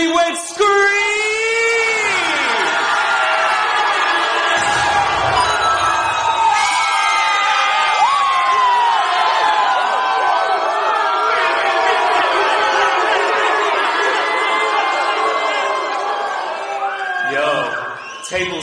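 Wedding reception guests scream, cheer and whoop loudly as a crowd, a dense sustained roar of shouting voices lasting the whole stretch, with announcer talk mixed in.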